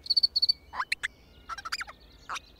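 The animated lucky cricket from Mulan chirps: a few quick high trilled pulses, then scattered clicky, squeaky chirps. Close and fairly quiet, with no voices.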